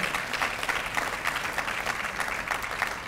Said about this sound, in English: Come on, give yourself a round of applause.